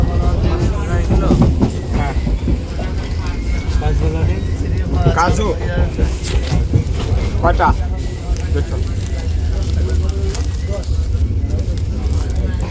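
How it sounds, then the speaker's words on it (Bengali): Bengali local train pulling into Ranaghat station, a steady loud rumble and clatter of the carriage filling the whole clip, with a vendor and passengers talking over it and another train passing alongside. "ট্রেন এখন রানাঘাট স্টেশনে ঢুকছে বন্ধুরা।"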